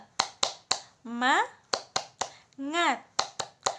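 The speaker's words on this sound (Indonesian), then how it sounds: "kita tepuk semangat bareng-bareng yuk" A classroom does the 'tepuk semangat' clapping chant, led by a teacher: sharp clap bursts in a patterned rhythm alternate with two chanted, sing-song vocal phrases from the group, close and lively.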